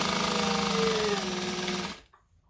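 A home sewing machine stitches jacket cuffs together, a loud fast buzzing run close up that holds steady for about two seconds and then stops abruptly into near silence.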